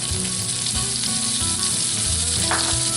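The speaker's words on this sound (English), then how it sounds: "The sauteed mushrooms and onions" Mushrooms and onions sauté in a hot pan with a steady, loud sizzle and crackle, joined now and then by faint scraping stirs. No one speaks.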